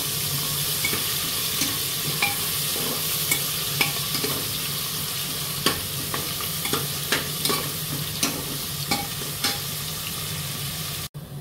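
Onions sizzle steadily in hot oil in a pan on a gas stove, with a continuous loud crackle broken by repeated sharp scrapes and clicks of stirring.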